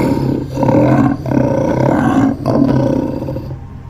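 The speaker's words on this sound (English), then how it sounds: "they could hear the infuriated roaring of the gold-tailed lion" Infuriated roaring of a gold-tailed lion: three long, deep, rumbling roars in succession, loud and close, each tailing off before the next, with no other sounds.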